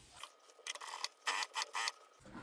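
A sewing machine stitches a half-centimetre seam on a fabric crossbody bag, running in short bursts of rapid whirring with brief pauses, fairly quiet and close, with no talking.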